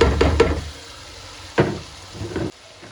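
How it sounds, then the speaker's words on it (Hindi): Chana dal tipped into a hot pan with lauki, a few quick clattering knocks and a soft sizzle, followed by scraping stirs, close and fairly loud. "अब हम डाल देंगे अपनी चने की दाल इसमें।"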